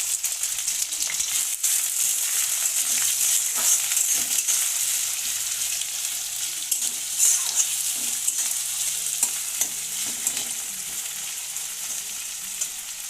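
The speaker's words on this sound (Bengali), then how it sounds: "আলু আর মাংসটাকে ফ্রাই করার জন্য কড়াই সরিষার তেল দিয়ে দিলাম।" Mutton mince and potato frying in mustard oil in a wok sizzle loudly and steadily up close, broken by frequent scraping, clattering stirs of a spatula, with no talking.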